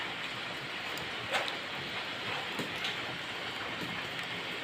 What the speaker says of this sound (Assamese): লগতে বাহিৰত বৰষুণ, ঠাণ্ডা দিনৰ বতৰ